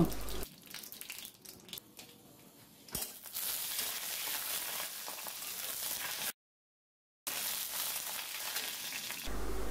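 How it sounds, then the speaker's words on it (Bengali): Dry red chillies sizzle and fry in hot mustard oil for a cow-meat kala bhuna, a steady loud crackle with stirring, broken by a brief pause midway. "এখন শুকনা মরিচগুলো ভালোভাবে নাড়াচাড়া করে ভেজে নেব"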